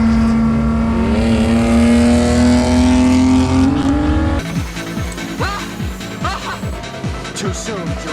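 Race cars roll racing at Queensland Raceway, including a GTR: a loud, sustained engine drone with a rising pitch during acceleration, then an abrupt shift to rougher, pulsing engine noise with scattered tire and crowd sounds.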